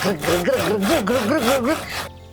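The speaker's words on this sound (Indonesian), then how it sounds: "Lalu dia mulai menggerakkan gergajinya di pohon." A hand saw rasps back and forth against a tree trunk in a rhythmic series of strokes, loud and close, while a warbling tone rides over it like a playful storytelling effect, then stops abruptly.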